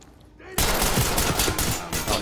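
Gunfire in the tactical shooter Ready Or Not, a sudden loud burst of rapid close-quarters shots after a quiet moment, continuing in sharp clustered volleys.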